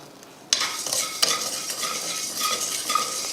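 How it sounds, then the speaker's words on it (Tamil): Rock salt is dry-roasted in a pan for a mutton kuzhambu masala, with a sudden start of close, gritty scraping and stirring and occasional sharp clinks over a steady rattling hiss. "உப்பையும் நல்லா வறுத்தாச்சு"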